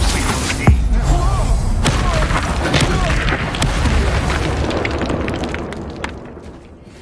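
Incendio fire spell in the Hogwarts Legacy video game, a loud booming blast with crackling burst that rumbles on and slowly fades over several seconds, mixed with game effects and a voice.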